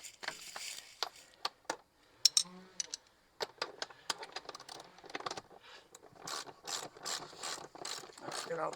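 A ratchet with a 3/4 inch socket turns bolts on a Hayward DE pool filter being reassembled, giving close, rapid clicking in bursts with short pauses, growing quicker and denser toward the end.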